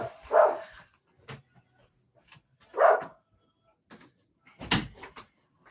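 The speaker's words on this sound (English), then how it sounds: "my dogs are distracting me now" Dogs barking inside a home office, a few separate loud barks spaced over several seconds with quiet gaps between them, no talk over them.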